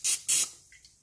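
Pam cooking spray sprayed into a heated waffle maker, two short close hissing bursts one after the other, then a fainter hiss and quiet sizzle fading out.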